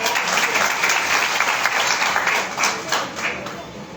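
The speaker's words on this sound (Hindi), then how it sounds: "सर के लिए तालियां हो जाए।" A seminar audience breaks into applause in a business talk hall, dense, sustained clapping from a sizable crowd that holds steady and eases off slightly toward the end.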